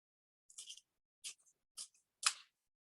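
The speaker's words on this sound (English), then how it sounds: "I'm going to cut out the shapes I've made" Scissors snip out paper card shapes in four short, separate crisp cuts, each a quick bright slice with pauses between, close and fairly quiet against silence.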